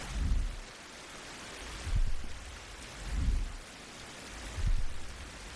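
Rain and wind in the survival game Survival: Fountain of Youth, a steady hiss of rainfall with gusts swelling and fading roughly every second and a half, moderately loud and without talk.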